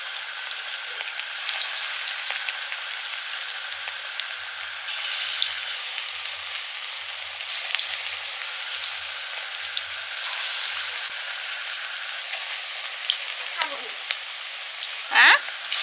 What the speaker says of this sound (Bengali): এবারে ডালের পেঁয়াজিগুলো ভেজে নিচ্ছি।